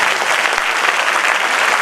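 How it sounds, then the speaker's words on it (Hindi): A seminar audience at a motivational talk claps for themselves, a dense, loud and steady burst of many hands that fills the whole moment with no voices over it. "तालियां मार लीजिएगा अपने लिए।"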